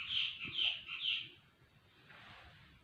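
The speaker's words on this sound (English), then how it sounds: "Birds twerping outside" Several bright, clear bird chirps sound outdoors in a quick run of about three calls, followed by softer, fainter twittering in the background.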